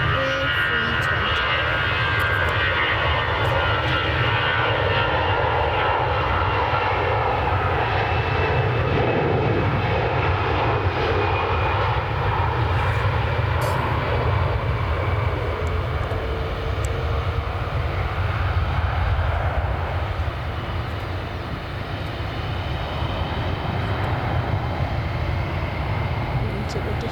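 EasyJet Airbus A320 jet engines roar steadily at Manchester Airport, a broad continuous drone that swells slightly and then eases, heard from a distance outdoors with some voice underneath.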